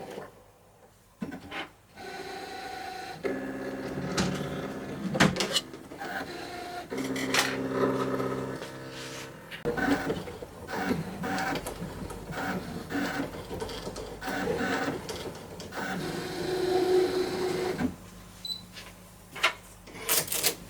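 Desktop cutting machine cutting a small smiley design from material on a mat, giving a busy mechanical whirr with repeated motor bursts, scraping and clicking movements close by.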